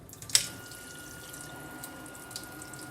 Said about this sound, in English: I'll just put some water in it this way.